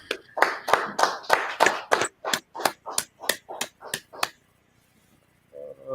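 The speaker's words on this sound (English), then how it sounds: "All right, clap it up." A group claps hands together at a scripture class, about fourteen sharp, close claps in a steady rhythm that slows and fades before a brief pause.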